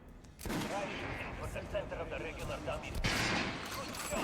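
Gunfire in Metro Last Light Redux rings out as sustained, dense bursts of shots through a busy game soundscape, with a voice talking over it.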